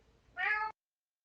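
A single short cat meow, loud and close, rising out of faint room noise and cutting off abruptly into silence.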